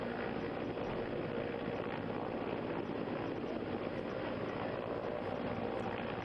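Indian Air Force rescue helicopter hovering over the Tawi river near an under-construction dam, its rotor and engine a constant loud drone with no pauses.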